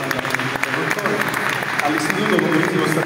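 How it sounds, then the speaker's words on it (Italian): A crowd applauds steadily at a school ceremony in Trapani, a dense patter of many hands clapping throughout, loud and continuous. "Applauso"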